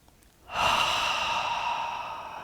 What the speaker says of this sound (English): Loud exhales are always welcome.